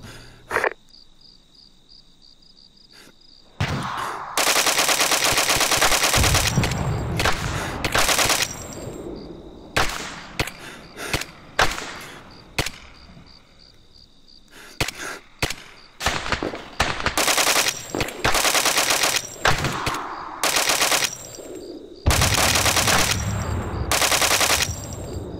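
Arma 3 gunfire crackles in long sustained automatic bursts mixed with single shots, loud and close, broken by short quieter gaps where insects chirp faintly in the background.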